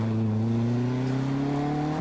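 A rally car drives on stage roads along the Tamar River, its engine note climbing steadily in a loud, close, rising whine.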